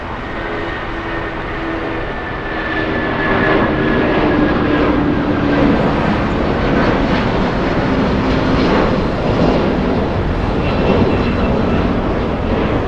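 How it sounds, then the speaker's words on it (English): Boeing 757 airliner on the move at LAX, a steady broadband jet roar that swells slightly after a couple of seconds and holds loud and constant, heard from a distance with no talk. "A 757 on the move,"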